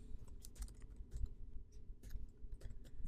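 Fingers type on a computer keyboard in quick irregular bursts of clicky keystrokes, close and fairly soft, with short pauses between clusters and no talk.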